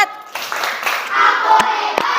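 In a classroom, young children chant together for a class clap routine, their voices close and loud, with a couple of sharp hand claps near the end.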